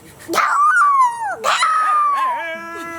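A person vocally imitating a dog, giving two long, wavering howl-like yelps with falling pitch followed by softer whining tones, loud and close.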